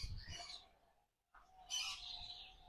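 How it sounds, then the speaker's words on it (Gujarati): Chirps and calls of parrots, budgerigars and cockatiels at a small bird sanctuary in Jamnagar, two bursts of bright twittering separated by a short pause, fairly faint with a low background hum. "પોપટ છે, બજગરી છે, કોકટેલ છે"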